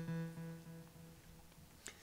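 Aalto software synthesizer note with its waveguide delay module set to full: a faint sustained tone that fades into a blurred echoing tail, with a small click near the end, no talking.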